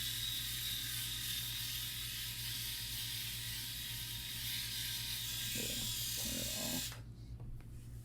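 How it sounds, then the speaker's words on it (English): Rozia Pro electric head shaver running on a head, a steady high motor buzz and whir that holds for several seconds, then cuts off abruptly, leaving quieter room sound. "This is the closest shave I've ever had with clippers."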